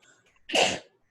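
One sharp, close human sneeze bursts out loudly and is over in a moment, with near silence before and after.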